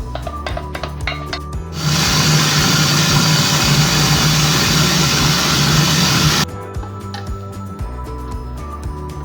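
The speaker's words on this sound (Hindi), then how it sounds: "अब इसको चॉपर में डाल के मैं इसको अच्छी तरह इसको हम लोग ग्राइंड करेंगे" An electric chopper grinds red chili sauce, a loud steady whirring drone that starts abruptly, runs for about four and a half seconds, then cuts off, with quieter kitchen clatter before and after.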